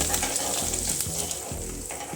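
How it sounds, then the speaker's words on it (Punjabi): Finely chopped ginger and garlic sizzle steadily in hot tempering oil with cumin, a dense continuous frying crackle with faint stirring scrapes throughout. "ਇੱਥੇ ਅਦਰਕ ਤੇ ਲਸਣ ਨੂੰ ਮੈਂ ਬਰੀਕ ਬਰੀਕ ਕੱਟ ਲਿਆ ਸੀ ਆਪਾਂ ਇਹ ਵੀ ਤੜਕੇ ਦੇ ਵਿੱਚ ਪਾ ਦਵਾਂਗੇ 2 ਮਿੰਟ ਵਾਸਤੇ ਭੁੰਨ ਲਵਾਂਗੇ"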